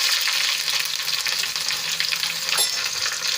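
Curry leaves, white sesame seeds and popped mustard seeds hit hot oil in a tempering for mixed vegetable rava dhokla, giving a loud, dense, crackling sizzle that stays close and constant.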